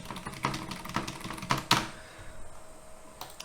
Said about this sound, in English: I was typing, but I didn't press enter.